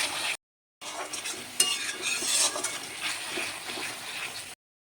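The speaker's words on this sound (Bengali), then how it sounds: "একটু জল দিয়ে নেব আর একটু ভালোভাবে কষাবো" Mutton curry spices and potatoes sautéed in a pan after a splash of water, a bright steady sizzle with stirring scrapes, close, after a brief silent gap near the start.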